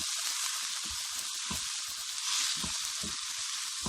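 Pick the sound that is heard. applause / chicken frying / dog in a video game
chicken frying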